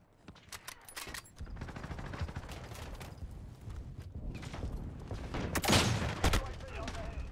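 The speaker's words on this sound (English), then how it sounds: "Why am I getting shot at?" Rapid bursts of video game gunfire crack in a dense, continuous barrage with a sharp louder volley near the end, set against busy background game noise.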